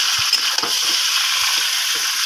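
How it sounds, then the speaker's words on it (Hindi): Chicken frying with onions in a pan, a steady loud sizzle broken by occasional scrapes and knocks as it is stirred, with no talking. "अब हम इसमें डालेंगे चिकन। तो हम अच्छे से चला लेंगे।"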